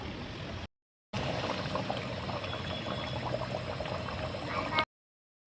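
A pot of chicken kosha curry simmers as its liquid reduces, giving a soft, steady bubbling hiss with faint popping. It runs quietly and unbroken between short silent gaps at the start and end.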